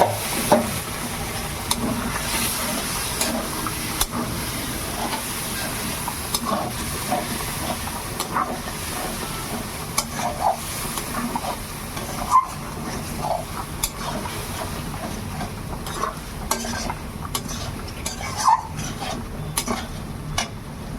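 Boiled kidney beans sizzle and hiss as they go into frying spices and are stirred, a continuous close sputter broken by repeated scrapes and light clinks of the spoon.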